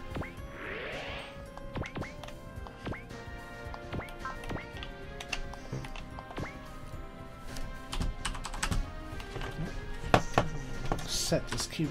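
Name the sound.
computer keyboard being handled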